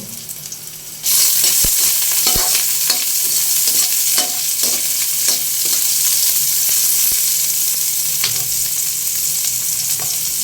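Onions sautéing in hot oil for Filipino mussel soup, a loud, steady sizzle starting abruptly after a second, with occasional clinks and scrapes of stirring, close and continuous.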